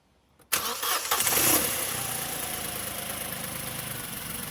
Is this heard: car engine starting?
yes